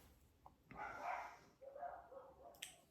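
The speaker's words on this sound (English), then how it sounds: "They're barking." Dogs bark in the distance, two muffled, faint bursts from outside while the house is otherwise quiet.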